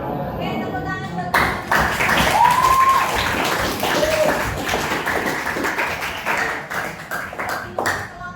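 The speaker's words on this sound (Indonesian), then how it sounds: "tepuk tangan buat" Classroom applause for a student group after their presentation, a ragged burst of clapping that starts abruptly and carries on steadily with scattered voices mixed in, and a short whistle-like tone sounding briefly partway through.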